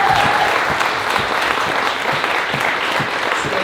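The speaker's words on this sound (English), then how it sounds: "please, a good round of applause." Sustained applause from an audience at the Influencers Unite 2018 event, steady and dense clapping filling the whole stretch, with no one speaking over it.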